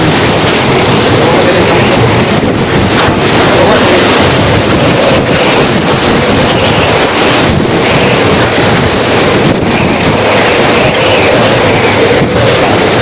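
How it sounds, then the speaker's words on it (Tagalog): Strong typhoon wind roars across an island in Northern Samar, blasting steadily into the microphone with a loud, unbroken rush of gusts and buffeting and no break in its force. "So ngayon parang palakas ng palakas ang hangin."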